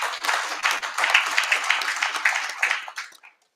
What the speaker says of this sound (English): we do appreciate another round of applause.